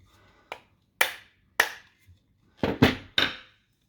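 Six sharp hammer taps fitting an end cap onto a 30x30 aluminium structural profile, spaced out singly and then in a quick cluster of three, close and crisp against near silence.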